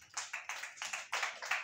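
Church congregation clapping for the Lord Jesus, a few sparse hands striking in a loose rhythm of about seven claps, faint and somewhat distant.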